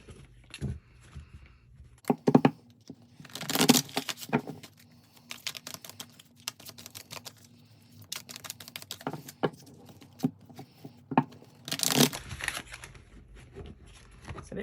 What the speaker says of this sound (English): I'm just going to go ahead and shuffle the cards up a little bit